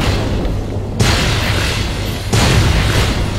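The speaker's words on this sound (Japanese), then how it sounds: "とりあえず手榴弾投げて" Grenade blasts in Fallout 3 alien-mothership combat: two heavy, booming explosions about a second apart, loud and close, each with a rumbling tail and no talk over them.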